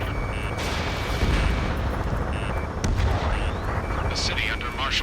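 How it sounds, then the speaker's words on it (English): Sustained rumbling gunfire and artillery-like booms in the Ace Combat 7 combat flight game, set over a city under martial law with jets roaring, loud and continuous with bursts and distant blasts. "gunfire and the roar of jets echoing through the streets."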